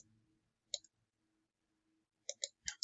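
Mouse clicks on a computer in a quiet room: one click near the start, then several quick crisp clicks in close succession toward the end.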